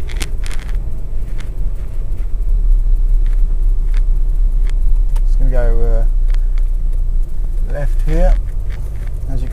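A Citroen XM 2.1 12-valve turbo diesel with a four-speed automatic gearbox drives along a road, a steady low rumble heard from inside the car, with someone talking over it.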